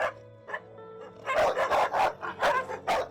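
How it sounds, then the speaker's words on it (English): Dogs bark repeatedly during a home visit, a burst of close, loud barks after an early single yelp, coming in an uneven run of several barks. "Amidst the barking dogs, the owner appears quickly."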